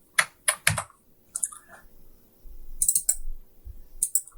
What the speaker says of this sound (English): I just have to type this thing.